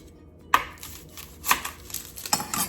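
An onion chopped with a knife on a cutting board in a home kitchen, a series of close, crisp knife strikes in an irregular rhythm after a quiet start.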